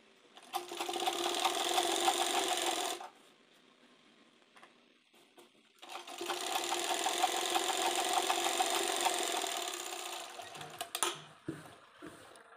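Sewing machine stitching buckram onto the edge of a dhoti salwar, running in two sustained bursts of rapid mechanical whirring separated by a quiet pause, followed by a few short clicks and stops.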